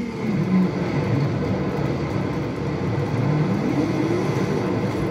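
A modified Toyota Supra with a body kit in a racing video game gives a steady, droning engine note with a slowly rising and falling pitch, heard alone at moderate volume with no talking.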